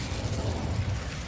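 The Incendio fire spell goes off in Hogwarts Legacy with a short, dense burst of rumbling whoosh, loud and full-bodied for about a second.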